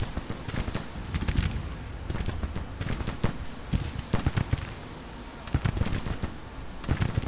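Cannon fire with canister shot from Civil War artillery in the strategy game Grand Tactician, a dense run of sharp booms and crackling volleys in irregular bursts, loud and continuous without talk.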